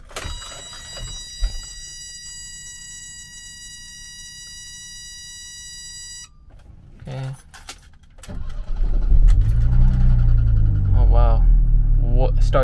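A 1984 BMW 318i with a newly fitted starter cranks briefly and fires up, settling into a loud, steady idle close by; before it, a high electronic chime rings with some rattling and handling noise.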